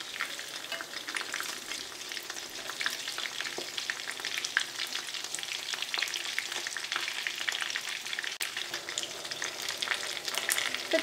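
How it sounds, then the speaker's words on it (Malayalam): Chicken kabab pieces deep-fry in hot oil, giving a dense, continuous sizzle with scattered crackling pops that stays loud and steady throughout, with no talk. "ഇനി ബാക്കിയുള്ള ചിക്കനെ നമുക്ക് ഇങ്ങനെ തന്നെ വറുത്തെടുക്കാം."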